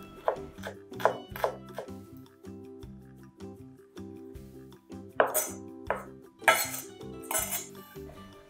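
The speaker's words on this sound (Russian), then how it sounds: "Также нарезаю небольшой пучок укропа вместе с зеленым луком." A knife chops green onion and dill on a board in irregular bursts of sharp cuts, close up, over quiet background music.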